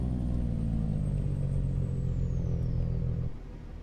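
Heavy truck rolling with a loud, steady low-pitched engine rumble and rapid staccato engine-brake chatter, a Jake brake on a Cummins or Caterpillar engine of up to 605 horsepower in American Truck Simulator, holding level before dropping off near the end.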